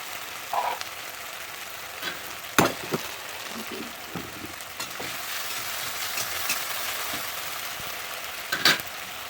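Ginger-cumin paste fries in a pan with a steady, close crackling sizzle, broken by a few sharper spits and stirring knocks, and no talk over it.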